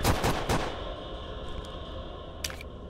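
Rapid gunfire from the horror game Apartament 1406: a quick burst of sharp shots right at the start, then a low steady hum, with one more faint crack near the end.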